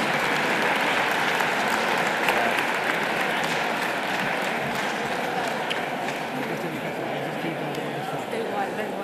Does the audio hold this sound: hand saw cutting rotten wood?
no